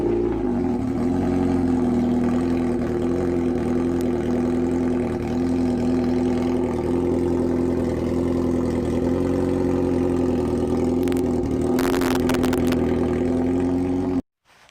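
A motorcycle engine shown off at a car meet runs steadily and loud throughout, a continuous idle-like drone with a brief rise near the end before cutting off abruptly.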